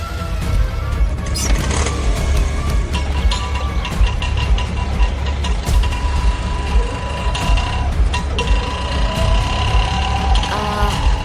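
A vehicle engine idles steadily nearby with a constant low rumble and faint mechanical clatter, plus scattered clicks and background bustle, with no clear talk over it.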